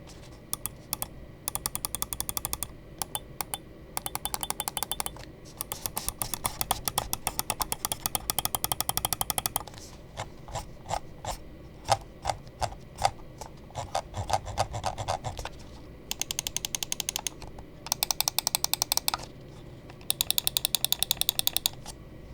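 Mouse button clicks on a Santali Aagaz S1-O wireless mouse, sharp close-up taps fired in fast irregular bursts and steadier runs, some clusters dense and rapid, others spaced, with no talking.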